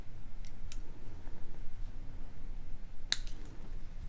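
Cutters snip the tail off malleable jewelry wire, with a couple of crisp little clicks close to the microphone over a quiet, steady background hiss.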